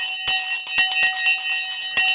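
A small hand bell rung several times in quick uneven strikes, bright ringing tones with sustained metallic overtones, close and loud with no talking.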